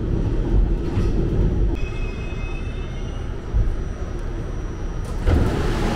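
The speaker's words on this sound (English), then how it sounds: "Next to another train right there." A New York City subway train rumbles steadily with loud, continuous rolling noise, thin metallic wheel squeals, and occasional clanks, heard from close by with no talking.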